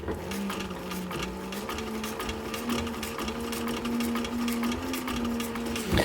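A sewing machine stitches a leather military patrol cap, its steady rapid needle rhythm running without a break at close range, the motor tone drifting slightly in pitch.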